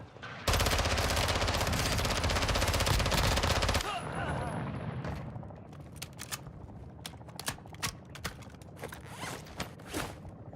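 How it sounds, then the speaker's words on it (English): Call of Duty DMZ gunfire: a loud, sustained burst of rapid automatic shots that cuts off abruptly, followed by scattered sharper single cracks and short bursts further off. "Somebody's shooting down below."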